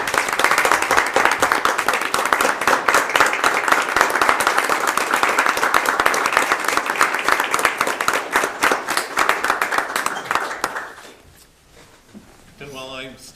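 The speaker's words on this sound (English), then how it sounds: "give her a round of applause for her time" County council meeting audience giving a round of applause, loud, crisp, dense clapping that holds for about ten seconds, then fades out, followed by a quieter moment with a voice starting.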